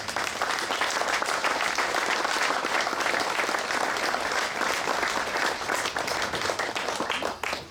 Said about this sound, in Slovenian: Že prej smo tudi zaploskali besedam evropske poslanke gospe Patricije Šulin.